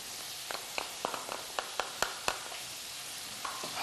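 Sliced onion and button mushrooms sizzle in a hot pan, a thin steady crackle broken by sharp spitting pops at irregular moments, close up with no talking.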